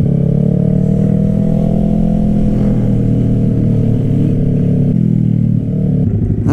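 A loud motorcycle at a bikers' event on an airfield revs and holds a deep, throbbing engine note nearby, rising slightly and then dropping away near the end.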